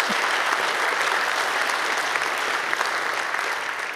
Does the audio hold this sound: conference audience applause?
yes